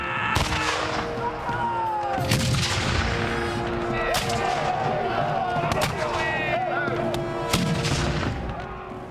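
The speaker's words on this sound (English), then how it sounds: "The government artillery fired back, and the battle was begun." 18th-century artillery cannons fire in battle at Culloden in the Scottish Highlands, with repeated loud booms and crackling gunfire over a dense rumbling din, and a voice speaking over it.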